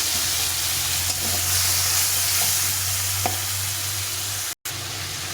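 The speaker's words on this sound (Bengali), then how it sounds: "এখন দিয়ে দেবো দিয়ে এটাকে ভালো করে একটু কষিয়ে নেব" Spice paste mixed with water is fried in oil for a cauliflower, pea and paneer dish, giving a dense, steady hiss of sizzling oil that stays close and loud throughout, with a brief drop near the end.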